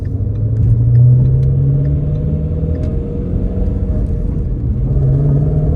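A car's exhaust, in normal mode, gives a deep, steady rumble at idle, close by and fairly loud, with a low throb that swells slightly now and then.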